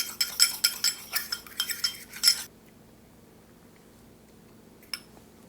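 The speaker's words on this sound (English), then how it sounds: "So we're going to go in with some chives and a little bit of dill. And now we just mix." A spoon clinks rapidly against a bowl while mixing a dipping sauce with chives and dill for fried pickles, about two seconds of bright scraping taps, then quiet with one last clink.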